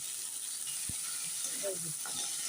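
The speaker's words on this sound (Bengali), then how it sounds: "এবার এই একটু ভাজা হবে" Diced elephant foot yam fries in a pan with a steady, moderate sizzling hiss, broken by one sharp knock and a few light stirring scrapes.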